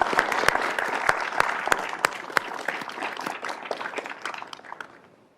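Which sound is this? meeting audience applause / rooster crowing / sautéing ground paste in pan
meeting audience applause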